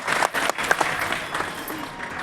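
Audience applause during a Hindi religious discourse: a crowd claps in a fairly dense, uneven patter that stays strong from start to finish.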